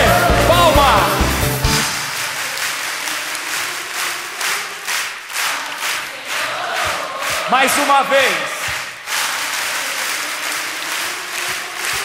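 A Catholic congregation claps for Jesus during a service, producing sustained crowd applause with cheering, and a voice briefly speaks over it.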